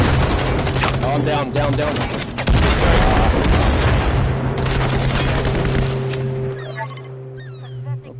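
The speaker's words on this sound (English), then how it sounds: "Three at the green fence, throwing grenades." Gunfire and grenade blasts in a team shooter match, loud continuous shots with heavy booming impacts, while players talk over the chaos.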